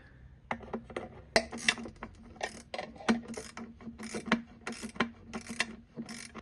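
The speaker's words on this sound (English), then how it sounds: "drop one of these ratcheting wrenches at angles, and I'm going to cup it from underneath, and then I should be able to turn this one back and forth to tighten it" A ratcheting wrench tightens the pickup tube on a small 2 kW diesel heater, making quick irregular runs of sharp, close clicks as it is worked back and forth.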